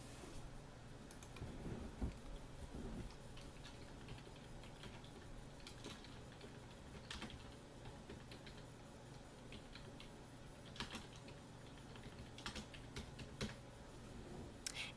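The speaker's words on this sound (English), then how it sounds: "So we're going to go ahead and type a message" Someone types an email on a computer keyboard, producing faint, sparse, irregular key clicks against quiet room background.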